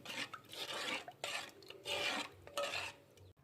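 A spoon scrapes and stirs urad dal porridge in a cooking pot, giving rasping, rubbing strokes in uneven bursts, close and moderately loud with no talking.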